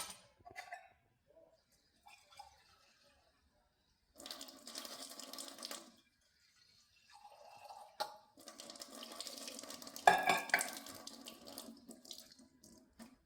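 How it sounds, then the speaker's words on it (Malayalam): Water splashes into a pot of jackfruit erissery in two stretches, the second longer, with a sharp metallic clink partway through; no one speaks. "വെള്ളം ഇച്ചിരി കുറവാണെന്ന് തോന്നുന്നു ഇച്ചിരി കൂടെ ഒഴിച്ചു കൊടുക്കാം"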